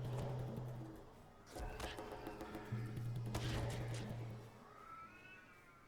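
A cat meows twice in drawn-out, wavering calls at a low level, with faint background noise between them.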